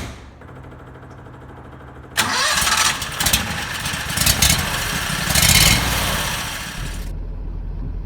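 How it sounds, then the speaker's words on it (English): A Renault car fitted with a Predator 670 engine cranks and fires up, then runs at a loud, rough idle with revving swells before cutting off abruptly, leaving a low background hum. "in the next scene I'll be in the driver's seat with the engine running and the cameras rolling"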